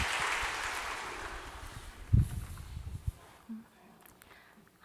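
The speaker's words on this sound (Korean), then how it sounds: "박수로 모시겠습니다" A church congregation claps to welcome the next speaker at a Sunday evening service. Steady, diffuse clapping fills the room, then tapers off and stops partway through, leaving a quieter hall.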